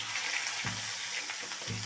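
Fish or dried fish frying in a pan, a steady broadband sizzle running throughout at moderate level, with a couple of brief low thumps of movement in the pan.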